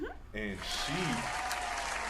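A studio audience breaks into a burst of applause right after a short spoken word, with steady clapping that fills the rest of the moment.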